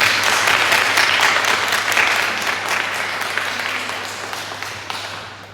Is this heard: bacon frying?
no